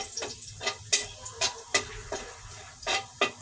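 Rice sizzling as it is stir-fried in a large pan for Filipino sinangag, with a spatula scraping and clacking against the metal in irregular strokes, close and fairly loud.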